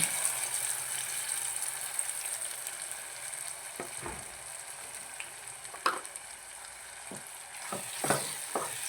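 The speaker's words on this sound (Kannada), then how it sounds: "ಈಗ ನಾವು ರುಬ್ಬಿ ಇಟ್ಕೊಂಡಂತಹ ಟೊಮೆಟೊ ಪೇಸ್ಟ್ನ ಹಾಕೋಣ" Ground tomato paste fries in a pan for tomato pickle, a soft continuous sizzle broken by several scraping stirs and clinks of a spoon against the pan, fairly quiet and close, without speech.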